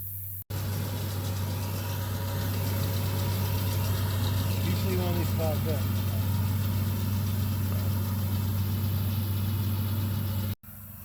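A tractor pulling a hay baler drones steadily with a low, constant engine hum that fills the whole stretch, with someone talking over it.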